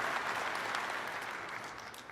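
Brief, dense clapping from a conference audience at DEF CON 24, applauding a speaker; steady and fairly close, fading slightly toward the end.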